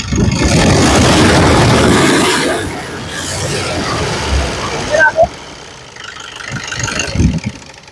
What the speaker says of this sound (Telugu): ఇంజన్ యొక్క నాయిస్ వినిపిస్తున్నాను ఒకసారి వినొచ్చండి యాక్సిలేటరీ